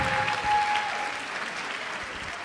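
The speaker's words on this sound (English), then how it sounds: "One more round of applause for Victoria" A crowd at a debut celebration breaks into applause, a dense, steady wash of clapping that swells early and then slowly fades.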